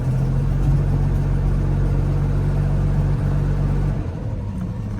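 An Alfa 33 16v rally car engine runs at a steady, loud idle, a deep constant rumble close by with no revving, easing slightly near the end; no one speaks over it.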